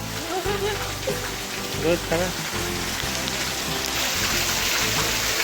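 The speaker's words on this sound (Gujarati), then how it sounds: "વરસાદ ચાલુ થઈ ગયો છે અત્યારે" Steady rain patters and hisses across the whole stretch, with voices talking intermittently underneath.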